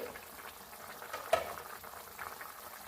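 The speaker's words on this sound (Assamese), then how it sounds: "মোৰ তৰকাৰীখিনি উতলিছে।" A pot of potato curry with hot water added boils quietly, a faint steady bubbling with one brief clink partway through.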